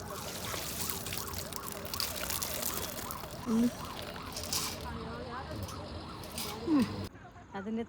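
An ambulance siren wails in a repeating rise-and-fall pattern, moderately distant, with background noise and brief bursts of other sounds.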